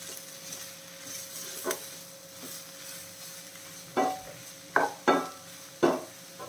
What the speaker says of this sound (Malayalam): അപ്പോൾ നമുക്കിനിയിപ്പോൾ ഇതെല്ലാം കൂടെ ഒന്ന് മിക്സ് ചെയ്തേക്കാം